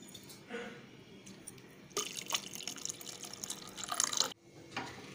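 Water pours into a pot of urad dal porridge, a faint trickle followed by a steadier splashing stream of a couple of seconds that cuts off abruptly, close and quiet, no voices.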